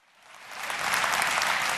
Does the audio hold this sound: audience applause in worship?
yes